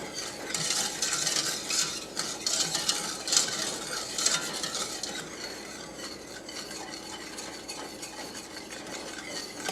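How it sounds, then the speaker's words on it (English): A whisk scrapes and clinks steadily through a milk and sugar mixture cooking in a pan for a dark chocolate pie, a continuous close stirring rhythm that eases slightly toward the end. "we're just going to stir this constantly until we get it good and mixed"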